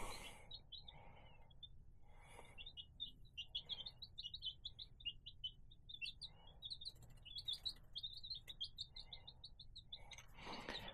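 Baby chicks peeping in a brooder, a steady stream of high, short chirps overlapping throughout, fairly close and moderately loud, with a faint low background hum and some soft rustling.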